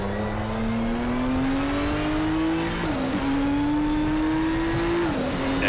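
Race cars in RaceRoom Racing Experience's touring classics at Sonoma drone continuously with rising engine pitch as they accelerate, with gear shifts at intervals and a steady loud roar throughout, no talking.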